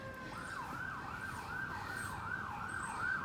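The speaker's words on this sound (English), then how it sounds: "there's a lot of ambulances today" An ambulance siren wails, sweeping up and down in steady repeating cycles, fairly distant, over a low rumble of traffic.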